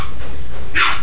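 A single short dog bark near the end of a second of low background rumble, close and fairly loud.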